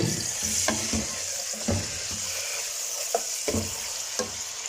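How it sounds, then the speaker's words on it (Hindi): Chicken pieces fry in four tablespoons of hot oil in a karahi while being stirred. A dense, loud sizzle runs throughout, broken by repeated clacks and scrapes of the spoon against the pan. "चिकन को मैं थोड़ा सा भून लूँगी।"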